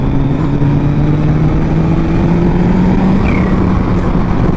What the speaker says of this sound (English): I'll just whack the throttle a little bit so you guys can hear this wastegate